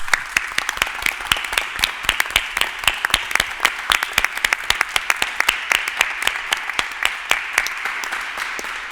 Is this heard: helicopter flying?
no